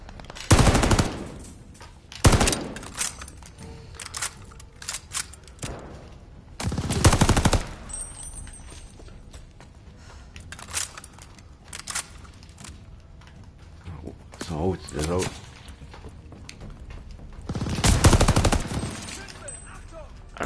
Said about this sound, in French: Des balles en masse.